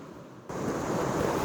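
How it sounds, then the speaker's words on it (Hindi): River water flowing while being collected, a loud, broad rushing wash that cuts in abruptly after a brief quiet moment and then continues steadily, with no talk. "बहता हुआ पानी भरना इसीलिए इम्पोर्टेंट है कि"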